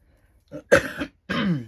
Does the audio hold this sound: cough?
yes